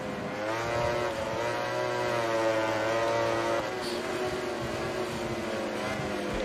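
Ducati motorcycle engines in a racing video game, a continuous loud high-revving engine drone with shifting pitch, steady throughout with no pauses.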